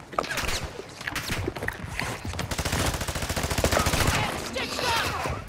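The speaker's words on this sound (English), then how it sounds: "You are taking effective fire." Rapid, continuous automatic gunfire from a Call of Duty match, dense bursts running throughout at close range with a faint voice underneath.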